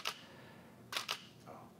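A camera shutter fires for timed bracketed exposures: a sharp click, then after a pause two quick clicks close together, and a softer fourth click, crisp and near in a quiet room.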